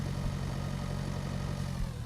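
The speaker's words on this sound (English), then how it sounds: "So we have our tractor already set up here." Tractor engine in the farming video game Pure Farming 2018, a continuous low rumbling drone at steady idle with no talk.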